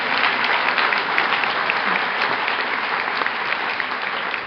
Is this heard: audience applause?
yes